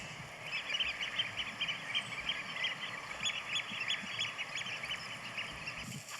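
A flock of pink-footed geese calls steadily overhead above a bay at low tide, with many overlapping honks and yelps that are fairly distant and continuous, and no one is talking.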